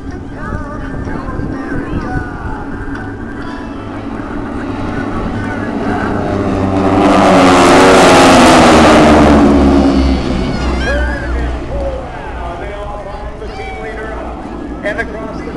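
Aeroshell aerobatic team planes sweep past at about 180 mph during the 2010 Dayton air show, their engine roar swelling to a loud peak and then fading, with crowd and voice noise underneath.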